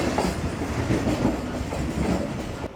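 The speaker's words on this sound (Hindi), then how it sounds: "हमारी ट्रेन अप्रोच बना रही है जी रोहड़ी जंक्शन पर" The Tezgam passenger train approaching Rohri junction makes a steady, close rumble with a continuous clickety-clack of wheels on rails. No voices are heard.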